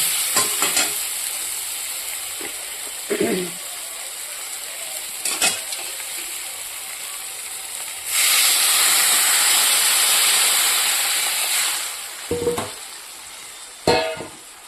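Water is poured into a hot pan of sautéed vegetables, setting off a loud, sustained hiss and sizzle for several seconds, with brief stirring clatters before and after it.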